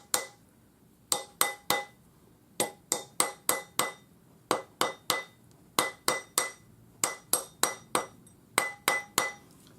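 A metal ring is hammered round on a ring mandrel after quenching and pickling, with sharp, ringing metallic taps struck in quick bursts of three or four, close and clear against a quiet background.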